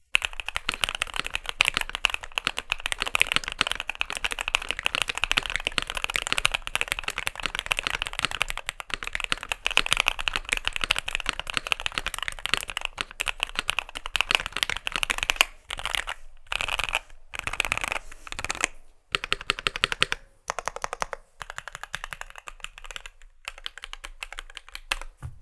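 Rapid, continuous typing on a Keychron Q6 full-size mechanical keyboard, clacky and close, with brief pauses toward the end.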